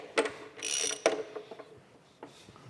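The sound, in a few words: tightening bolts with a ratchet on a steam stoker engine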